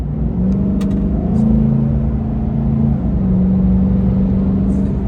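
A Chevrolet Silverado pickup engine with a K&N 63 Series cold air intake revs to about 3,000 rpm, a steady, throaty drone with a deep intake hum, holding its pitch for several seconds before easing off slightly.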